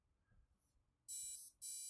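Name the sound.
drone ESC motors and flight controller beeping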